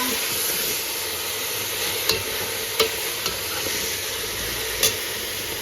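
Soya and potato curry sizzles in a pan with a steady hiss, while a few scattered clicks and scrapes from a stirring utensil cut through at close range, no talking.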